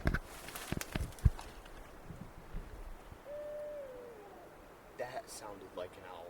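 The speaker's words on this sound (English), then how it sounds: "That sounded like an owl right there." Owl calling at night in the Northern Cascades, a single faint, drawn-out hoot in the middle, preceded by scattered clicks and knocks and followed by a brief distant voice.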